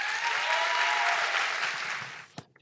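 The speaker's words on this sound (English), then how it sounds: "let's give a big round of applause to Professor Rodney Ogawa" Applause at a year-end ceremony greets a professor taking the stage: dense clapping from a seated audience holds loud and even, then thins and fades out, ending in a couple of stray claps.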